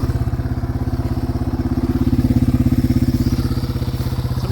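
A home-built TW200 three-wheeler runs along dirt trails, its single-cylinder engine thumping in a steady, rapid, loud pulse close to the microphone, with no pauses throughout.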